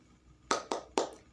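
Schoolchildren doing a rhythmic spirit clap in a classroom lesson: three sharp, close claps in quick succession, each a crisp burst that fades fast, with quiet between them.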